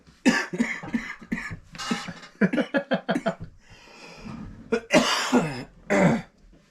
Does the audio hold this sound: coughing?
yes